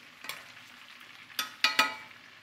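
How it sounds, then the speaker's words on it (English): Pan-seared salmon sizzles and spits in a hot pan while being basted, soft frying hiss broken by a few sharp spoon scrapes and splashes, no talk. "Now you can baste."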